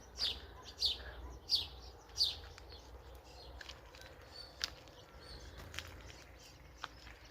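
Starlings chirping in village trees, a few sharp high calls in quick succession early on, then sparse faint chirps over a quiet outdoor background.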